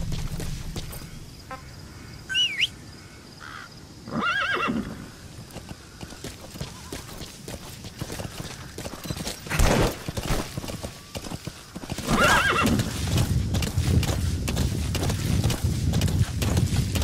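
A horse in the Metal Gear Solid V video game, hooves clip-clopping in a steady rhythm that grows louder into galloping, with brief high whinny-like calls early on and game ambience around it.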